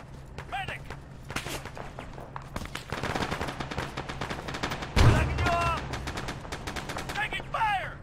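Sustained gunfire in a military video game operation, with rapid automatic bursts and scattered shots crackling continuously, some near and some farther off, while voices call out over the firefight.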